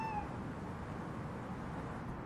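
A cat gives one short, faint meow at the very start, then only a low, steady background hum remains.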